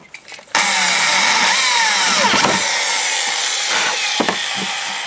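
A power drill bores 8mm holes through a fiberglass mudguard, a loud high whine starting abruptly and grinding steadily for several seconds close by, with slight pitch dips as the bit bites.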